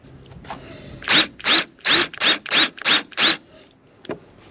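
Pan head stainless steel screws being power-driven into a vinyl-covered rear rack platform for a Lectric XP trike, heard as seven quick, even buzzing bursts in a row from a drill close by, then a single short whir.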